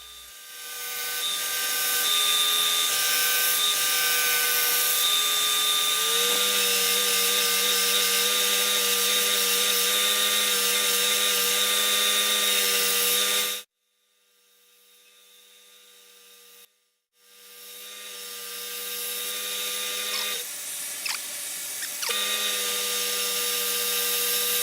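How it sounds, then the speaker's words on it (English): A steady whirring power sander runs continuously against the inside of a maple wood bowl, with a brief pause in the middle before the grinding hum resumes. "Sanding the inside of the bowl with this Robert Sorby sanding system makes it easy"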